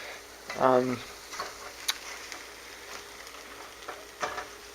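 Hot scrambled eggs are stirred in a hot pan, giving a soft sizzle with scattered scraping and tapping stirs and a brief tonal clink early on, fairly quiet and intermittent.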